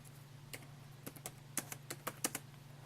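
Someone types an address on a computer keyboard, producing a sparse run of sharp, close keystroke clicks in irregular clusters over a steady low electrical hum.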